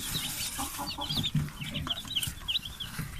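Sasso baby chicks on their second day, with a flurry of high, quick peeps and chirps close by, fairly quiet, continuing throughout with no talking.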